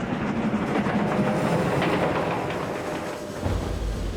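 Troop train assembled by the Canadian Pacific Railway rolling along the tracks, with a steady loud rumble and rhythmic clickety-clack of wagons, no voices.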